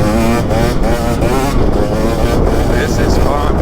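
A 2023 KTM 300XC two-stroke dirt bike on its strong beast mode map revs loud and close, rising and falling in pitch as it accelerates through the gears, with heavy wind buffeting the microphone throughout.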